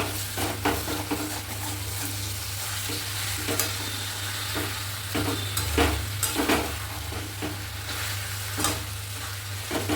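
Chicken frying in a pan with a steady sizzle, stirred with repeated scraping and clinking strokes up close, no voices present.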